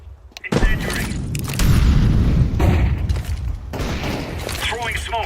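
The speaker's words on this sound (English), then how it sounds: "Throwing fire. Incendiary." An incendiary grenade in Counter-Strike 2 lands with a heavy boom, then a roaring, crackling burst of fire that continues loudly, with voices talking over it.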